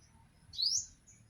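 A sunbird (tamsi) in a flowering makopa tree gives a single short, high rising chirp, faint and somewhat distant over low background rumble.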